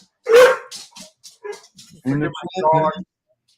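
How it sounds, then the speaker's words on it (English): Excited dogs give one loud, sharp bark up close, followed by a few fainter yips, and then a person talks briefly afterward. "My dogs are excited about it."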